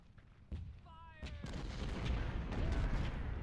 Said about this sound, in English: let my artillery start firing